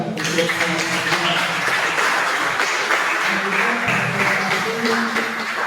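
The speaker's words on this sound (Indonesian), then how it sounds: "kasih aplaus ya" Classroom applause from a group of students, a dense steady patter of clapping lasting several seconds at moderate loudness, with some voices mixed in.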